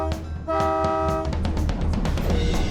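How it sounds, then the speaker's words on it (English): A full-size train locomotive at a railway museum sounds a sustained multi-tone horn blast, loud and near, followed by rumbling rail noise and clanking as it moves. "We do operate 2 trains,"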